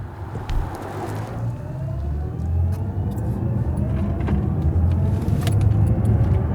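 Artificial driving sound in a BMW i7 electric luxury sedan, heard from the cabin as a steady low synthetic hum with faint rising tones during acceleration over continuous road rumble.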